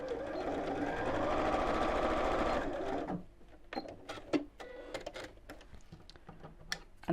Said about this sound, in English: And we'll sew straight across that line.